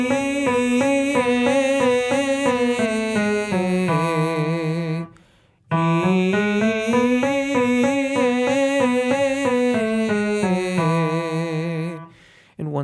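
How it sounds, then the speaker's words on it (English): A voice teacher sings a vocal trill agility exercise, a sustained buzzing lip-trill tone stepping through a quick rising and falling note pattern, repeated twice with a short breath between phrases, close and clear. "the next exercise is one version of the trill exercise"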